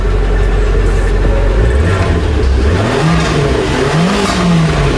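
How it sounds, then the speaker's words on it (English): An Italian car's engine idles loud and close, a constant rumble whose pitch wanders up and down with slight revs; distinct pops and bangs are not clearly picked out. "I don't know if you guys can hear how it idles, but it's super loud, and it has pops and bangs as well"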